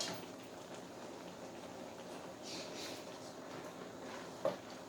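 Pot of mixed greens simmering and cooking down, a faint, steady bubbling and crackling hiss with a brief clink near the end, quiet and close without talk.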